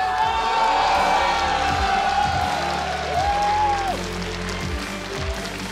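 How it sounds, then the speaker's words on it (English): A large crowd cheers and roars continuously, loud and sustained, with whoops and shouts rising over the din, at the IEM Katowice 2015 StarCraft 2 quarterfinal esports event. "All Zerg fans, make some noise for SKT1's Dark!"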